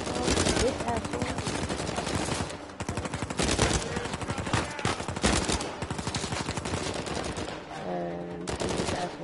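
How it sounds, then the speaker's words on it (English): Rapid gunfire in Uncharted: A Thief's End, loud bursts of automatic shots in dense rattling volleys with brief gaps, close and sustained through a combat scene, with a short stretch of other game sound near the end. "Where's the shooting coming from?"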